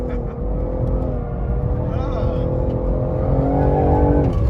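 BMW engine on a track revving steadily with manual gear changes, a rising drone that climbs and shifts near the end, heard from inside the car while people talk over it.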